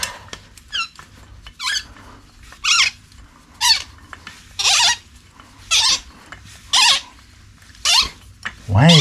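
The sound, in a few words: bolt squeaking while fitted to ground anchor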